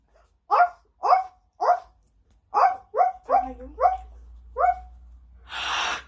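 A dog barks about eight times in a steady series of short, clear yelps, then a breathy hiss or sniff closes the sequence.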